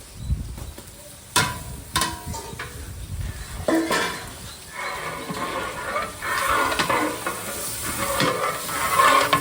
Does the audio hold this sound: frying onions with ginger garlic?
yes